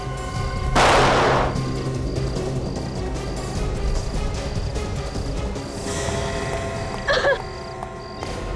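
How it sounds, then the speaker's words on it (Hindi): A single sharp gunshot cracks loudly near the start, fired by a fleeing attacker, followed by tense ambient noise and a fainter burst later on. "उसने गोली तो चलाई है।"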